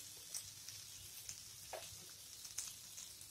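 Three slices of bread toast side by side in melted butter on a pan over a medium gas flame, giving a faint, steady sizzle with soft scattered crackles.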